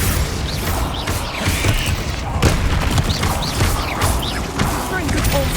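Bombarda spell blasts in Hogwarts Legacy go off in a rapid series of booming, crashing impacts mixed with clattering debris and mechanical game effects, while a voice calls out spell names over the action.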